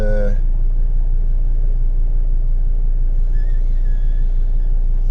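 Inside a car crawling through village traffic, a low, steady engine and road rumble fills the cabin continuously at close range.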